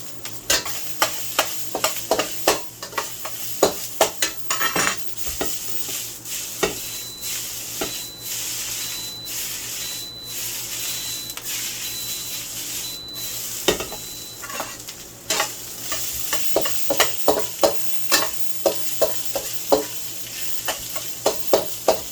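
Chicken fried rice stir-frying in peanut oil in a pan, a continuous sizzle under repeated scraping and tossing strokes of a spatula, close and steady throughout.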